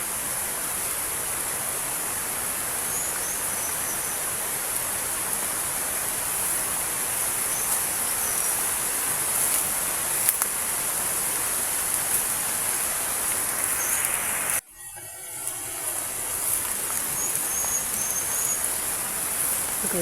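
Heavy rain pours steadily through a bamboo grove, a dense unbroken hiss close around the listener, with a brief dip in the downpour near the end before it resumes.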